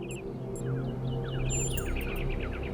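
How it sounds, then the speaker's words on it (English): Birdsong in The Talos Principle 2: bright chirps and short falling whistles repeat through the scene over a steady, humming game ambience, with a denser flurry of calls near the end. "Do you hear the birds chirp?"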